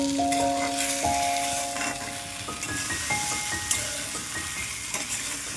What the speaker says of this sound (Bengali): ব্রাউন কালার না আসা পর্যন্ত ভাজতে হবে বেগুনটা।